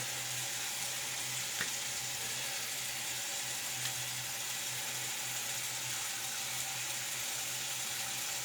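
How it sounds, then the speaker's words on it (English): Water runs steadily from a tap while a razor blade and shaving brush are rinsed beneath it, a continuous close hiss with a low hum underneath and a couple of faint clicks. "we're going to open up the razor here, rinse that blade some."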